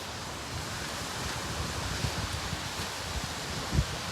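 Steady Hurricane Ian wind blows across the microphone on the water in Charleston, a continuous rushing roar with low buffeting thumps as gusts hit.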